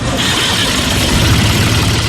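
A Case IH compact tractor engine runs with a steady, even rumble and broadband noise that holds at a constant loud level for about two seconds in a broadcast advertisement.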